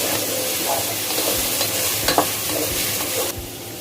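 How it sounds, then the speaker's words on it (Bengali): Chopped carrots sizzle steadily in a hot pan while a utensil stirs them, with light scraping taps over the constant frying hiss and no talking. "এই জন্য আগে গাজর কুচিটা দিব। 2-3 মিনিট নেড়ে নিব।"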